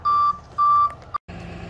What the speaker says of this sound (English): Finally got ourselves a tow truck.